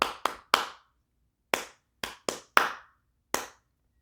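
Hands clap a simple duple-meter rhythm: eight sharp, close claps in uneven groupings with brief pauses between, no voices.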